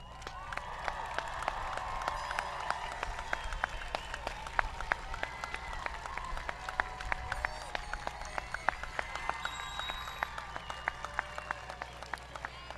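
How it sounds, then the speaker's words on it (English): An audience at the Niles West 2021 commencement ceremony stands and applauds the graduating class, a steady wash of dense clapping with a few sharper claps popping out, sustained throughout. "Please stand and applaud your Niles West class of 2021."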